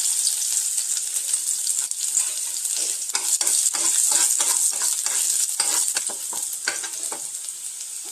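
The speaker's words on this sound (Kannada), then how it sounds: "ಓಕೆ, ಇದು ಕಾದ್ಮೇಲೆ ಬೆಳ್ಳುಳ್ಳಿ ಹಾಕೊಂಡಿದ್ದೀನಿ." Unpeeled garlic cloves fry in hot oil in a pan with a loud, continuous sizzle and crackle, broken by repeated scraping stirs.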